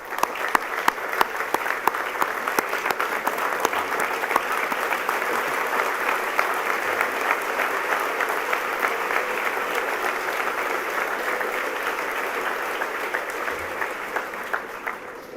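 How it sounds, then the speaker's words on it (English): A school assembly audience at a college gives a long, sustained round of applause, dense steady clapping filling the hall for the whole stretch and tapering slightly at the end. "Father John, Father Joe, and Father Mario with a huge round of applause."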